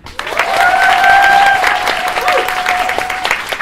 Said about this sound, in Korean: 저 긴장하지 말라고 박수 한 번